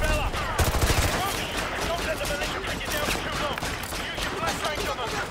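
Gunfire in Modern Warfare 2 Remastered, dense and continuous, with rapid overlapping shots and battle noise forming a loud, busy wash, and voices mixed in.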